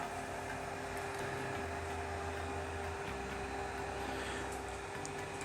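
A pump recirculates wort through the mash of a HERMS all-grain brewing setup. It gives a steady, close mechanical whir with a constant tonal hum, unchanging and with no talk.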